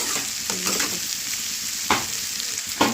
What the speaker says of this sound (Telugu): ఈ బెండకాయలు అయితే బాగా ఈ విధంగా అయితే ఫ్రై చేసేసుకోవాలన్నమాట